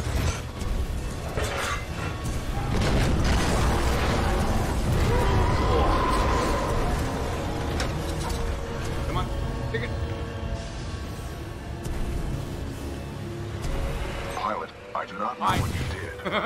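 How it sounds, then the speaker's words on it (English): Explosions and heavy mechanical rumbling in the shooter game Titanfall 2, a loud, booming sequence with grinding machinery and bursts that swell in the middle and taper off, with game voices and a player's talk over it. "Series of explosions just weakened the manipulator arm."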